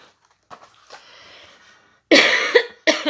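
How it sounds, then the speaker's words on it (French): Two loud, harsh coughs burst out close by, preceded by a few soft breathy sounds and a quiet wheezing breath. "Désolée, je risque de tousser pas mal."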